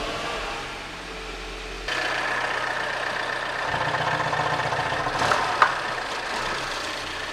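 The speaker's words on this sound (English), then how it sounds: "I will start the engine up and let it idle, warm up slightly" A BMW F20 hatchback's engine idles after start-up, settling into a steady low mechanical hum with a constant drone and one brief sharp click near the end, no voices present.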